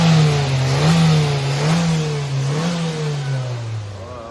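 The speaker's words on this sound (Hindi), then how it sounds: "तो गाइस अब आवाज़ जो है गाड़ी की वो भी चेंज हो गई है।" A Suzuki Jimny engine with a newly installed snorkel revs steadily, close and loud. Its pitch swells and falls in several gentle pulses over a continuous mechanical drone.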